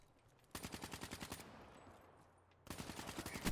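Automatic gunfire in Call of Duty: Black Ops 3, two rapid bursts of rattling shots separated by a brief lull, loud and close with no speech.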